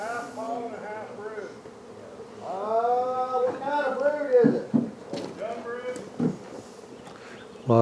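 Honeybees buzz around beehives in a spring bee yard during queen cell builder setup, a steady insect hum running under nearby talking and clinking frame handling.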